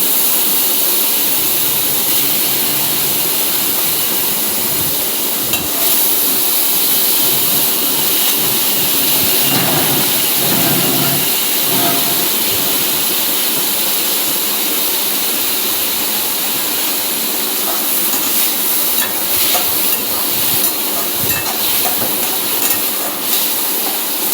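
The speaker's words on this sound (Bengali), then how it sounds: "চিংড়ি মাছটা মেখে নুন হলুদ দিয়ে মেখে আমি কড়াইতে ছেড়ে দিচ্ছি।" Prawns coated with salt and turmeric fry in hot oil in a wok, a loud, sustained hissing sizzle that runs steadily for over twenty seconds with occasional surges.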